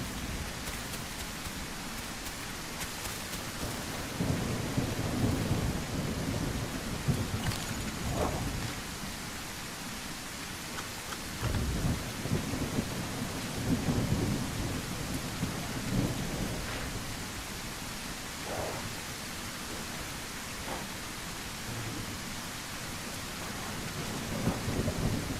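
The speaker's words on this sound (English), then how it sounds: "That rain is very loud." Heavy rain pours steadily in The Isle dinosaur survival game, a constant loud hiss broken by several deep rumbling thunderclaps and crackles spread through the storm, with no voices.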